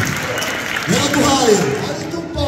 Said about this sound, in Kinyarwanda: tuyikomera amashyi ihabwe icyubahiro mu izina rya Yesu Kristo